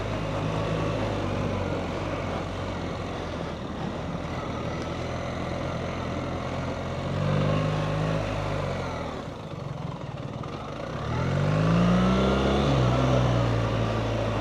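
A BMW R1300 GS motorcycle ridden off-road, its engine droning steadily up close, then swelling as the throttle opens and easing off again near the end.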